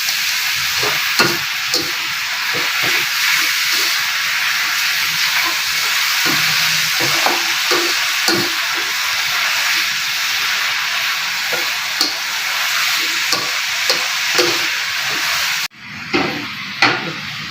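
Oyster mushrooms stir-fried in a hot pan give a loud, constant sizzle with frequent clacks of the spatula against the metal. Near the end the noise drops suddenly and a few softer stirring sounds continue.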